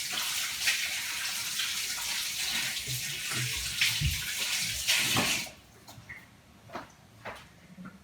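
Tap water runs steadily as hands are rinsed of sticky turkey thigh residue mid-cooking, a broad continuous splash that stops abruptly partway, leaving a few small drips and handling sounds.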